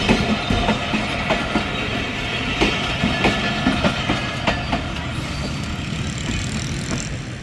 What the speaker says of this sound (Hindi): ये 107 up Islamabad express signal green Jhelum station पर।